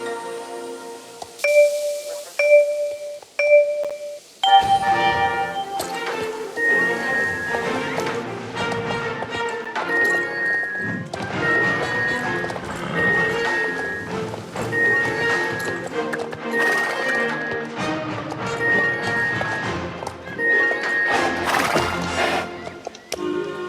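Hooves of a horse being ridden around a square track in Star Stable Online, a steady rhythmic clip-clop running for most of the clip after a short musical chime opening, with game music playing underneath.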